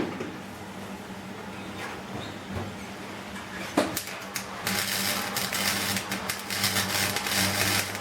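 Short MIG spot welds on a very thin car body panel of a Ford XC Fairmont 351 under restoration. Early taps and clicks give way to a steady crackling, sizzling buzz from midway on, over a constant low electrical hum.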